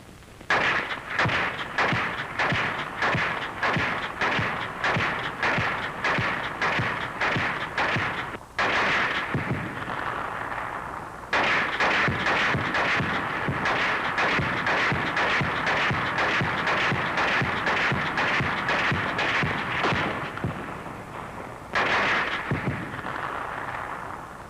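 Loud, dense barrage of artillery and rifle and machine-gun fire heard from a soldier's position under fire in World War II, with rapid repeated blasts and cracks for several seconds, a brief lull, then continuous heavy firing resuming.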